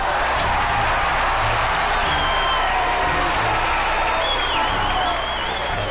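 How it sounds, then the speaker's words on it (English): A crowd cheering and applauding in the video game Atelier Meruru, a dense, steady roar of clapping and voices that stays loud and unbroken throughout. "Lots of cheering."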